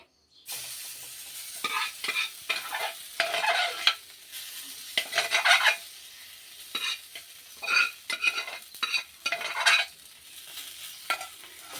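Boiled moong dal is stirred into the mixture for Ukkarai sweet in a pan, with a spoon scraping the pan in repeated bursts against a soft sizzle. The stirring is near and fairly quiet, and no one speaks.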